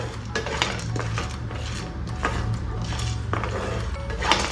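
Pumpkin seeds dry roasting on a hot tawa with no ghee, stirred steadily so they scrape and clink against the pan in a continuous close scratchy rustle, with no talk.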